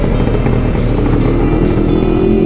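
Motorcycles in a group pass close by in a loud, continuous engine drone, a dense low rumble with rising revs near the end, with no talk over it.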